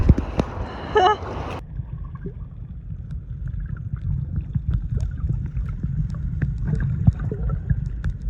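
A brief voice at the start, then sea waves on a beach in Crete slosh and splash in low, irregular surges, with gurgles and a rumbling, wind-like undertone.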